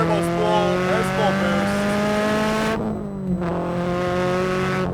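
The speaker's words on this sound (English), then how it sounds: "You get a really good turbo spool" A turbocharged Subaru BRZ on an aftermarket ECU revs hard, its engine note climbing through sustained, loud harmonic sweeps with a brief dip midway as the turbo spools, close and continuous throughout.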